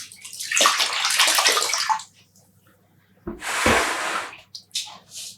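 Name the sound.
squeezing water out of a skein of yarn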